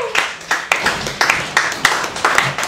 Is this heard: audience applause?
yes